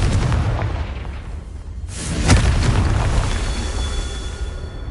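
A fiery Confringo spell blast in the Hogwarts Legacy game, heard as a loud booming explosion with a sharp burst midway through, rumbling under dense game sound with no talk.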